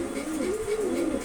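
One of a pair of Putul Sobji Gorra pigeons gives a single soft, low, rounded coo, close by and fairly quiet over a light background hiss.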